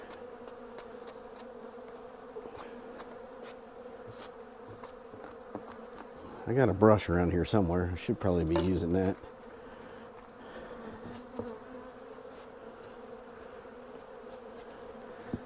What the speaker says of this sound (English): But we want to move these bees back to their hive.